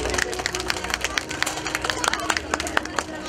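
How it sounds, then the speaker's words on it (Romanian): Audience applauding children at an earthquake preparedness talk, a brief burst of scattered clapping over crowd murmur, fairly faint. "aplauze pentru ele."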